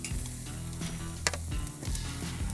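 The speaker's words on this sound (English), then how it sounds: "You can hear the sizzle." Korean chicken wings sizzle fat side down on a hot pan, a dense close crackle with a few sharper pops and light handling noises.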